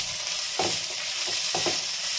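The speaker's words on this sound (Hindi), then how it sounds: "मसाला अच्छे से भुन गया है" Dry spices (coriander, turmeric, garam masala, roasted cumin) frying in a pan on low heat for palak paneer, with two or three distinct scraping stirs over a steady, close sizzle; no voices.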